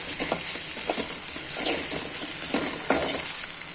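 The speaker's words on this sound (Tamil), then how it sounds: "இதுல கொஞ்சம் இஞ்சி பூண்டு பேஸ்ட் சேர்த்துக்கலாம். சேர்த்து நல்லா வதக்கி விட்டுக்கோங்க." Ginger garlic paste sautéing in a pan, a steady sizzle with occasional scraping stirs and light clinks, close and continuous.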